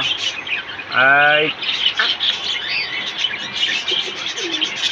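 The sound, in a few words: pigeons cooing and chirping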